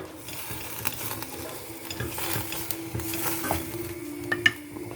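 Red wine splashed into a pan of shallot sauce sizzles softly while a utensil stirs and scrapes against the pan, with occasional light clinks, fairly quiet and close.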